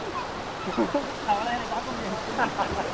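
River water rushes steadily at a hidden river spot in Chinnapatti near Madurai, a constant broadband wash with voices talking faintly over it.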